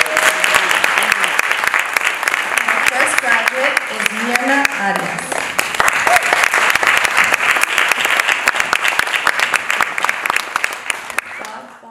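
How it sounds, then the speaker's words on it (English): Sustained audience applause fills a graduation ceremony hall, loud and steady throughout, with a speaker announcing a graduate's name over the clapping before it tapers near the end. "let's give them a round of applause"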